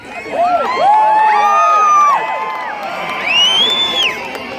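A large rally crowd in Salt Lake City, Utah cheers for Bernie Sanders, with loud whoops, shouts and high-pitched yells rising and falling in waves, close and energetic.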